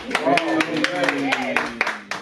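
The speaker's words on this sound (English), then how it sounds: "Everybody clap it up for Johnny." A studio audience claps to welcome a special guest onto a talk-style show, a steady burst of applause with a voice speaking over it throughout.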